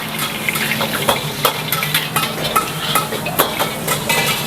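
Hainan fried rice for three portions being stir-fried in a busy restaurant kitchen, a steady sizzle with repeated scraping and clanking of a spatula against the wok, close and continuous.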